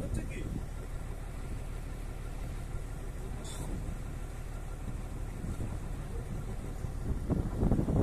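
A small fishing boat crewed by three moves along a wide creek in the Sundarbans, its steady engine rumble and water wash droning close and even, with people talking over it.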